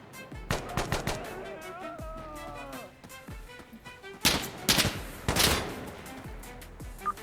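Gunfire in the video game Insurgency Sandstorm: scattered shots build into two loud bursts of rapid automatic fire, while voices talk earlier in the clip.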